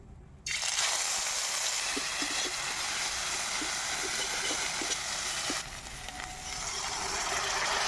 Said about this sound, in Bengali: এবার আমি বাটা মশলাগুলোকে ফ্রাই করে নেব।